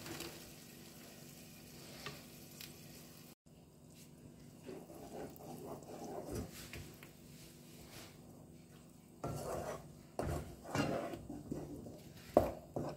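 Onions with blended spices are sautéed in a pan, giving a quiet, low sizzle that is broken by a series of scraping stirs, which grow louder and more frequent toward the end.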